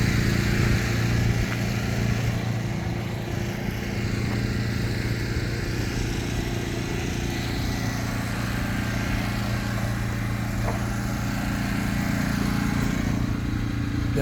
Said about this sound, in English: Operated by a diesel motor on top.